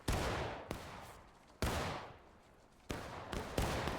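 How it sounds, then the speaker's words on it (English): Soldiers' rifles fire in ragged volleys in a Civil War-era battle game, four loud crashing salvos at uneven intervals, each decaying into a rumbling tail, with no talk. "Keep firing, boys."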